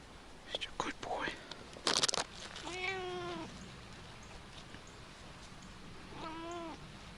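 A cat meows twice, a rising-falling call and then a second one a few seconds later, close and fairly clear, with crinkling handling noises and soft nearby voices between.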